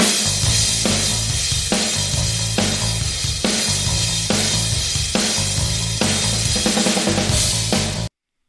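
The distorted guitar riff intro of a song plays in a repeating loop with steady drums and bass, loud and full throughout, ending abruptly.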